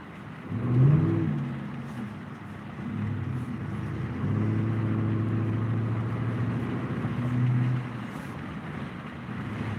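A classic car rumbles past with a deep, steady low engine note that swells early, holds for several seconds and surges briefly near the end before easing off.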